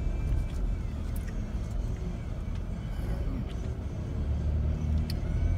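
A car drives slowly with steady low engine and road rumble throughout, turning in along a small circle drive toward a residential driveway, with no talk over it.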